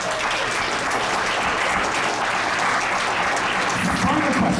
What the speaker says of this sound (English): give yourselves a huge round of applause for that